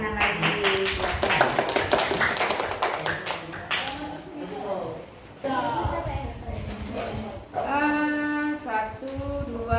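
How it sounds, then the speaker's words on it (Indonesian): A classroom group claps hands together in a short burst of applause during a presentation session, mixed with children's voices and talk, followed by a brief count before speech resumes. "Tepuk tangan lagi."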